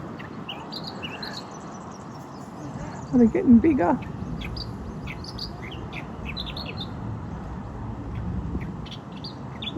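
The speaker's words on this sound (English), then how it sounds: "Check out the birds." Small songbirds chirp and tweet repeatedly in the background outdoors, faint and scattered throughout, while a person talks briefly near the start.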